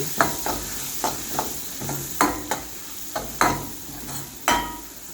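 Chicken sukka sautés in a pan, with a steady sizzle broken by regular scraping stirs of a spoon against the metal, about a dozen strokes, close up.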